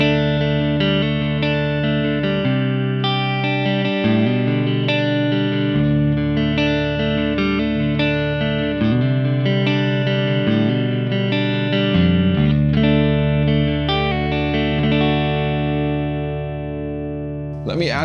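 A clean electric guitar tone from a Kemper Profiler amp profile plays sustained chords and single notes, bright and full, ringing out steadily with no distortion.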